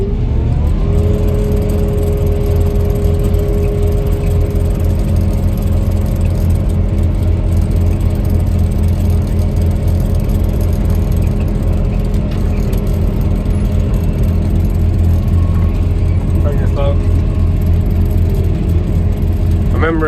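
A forage harvester works a maize field with the cracker engaged, heard from inside the cab as a loud, constant engine drone and mechanical whir that holds steady throughout.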